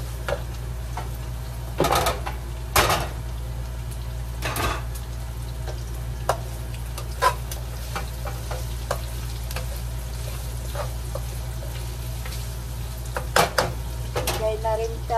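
Garlic, onion and chili fry in a pan with a steady, continuous sizzle, punctuated by several sharp clanks of a utensil stirring against the pan, close by.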